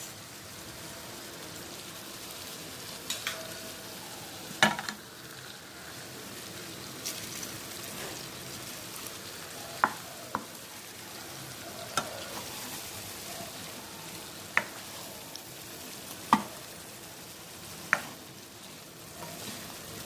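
Stuffed brinjals frying Andhra style in a pan, a steady soft sizzle throughout with occasional sharper pops and scraping clinks as they are turned over.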